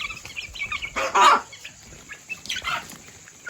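Hens cluck in short bursts, with fainter peeping mixed in and a louder squawk near the middle, at a moderate distance with no talk.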